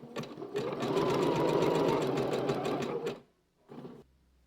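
Sewing machine zigzag stitching elastic onto fabric, a fast rhythmic mechanical whir running for about three seconds, stopping, then a brief second burst.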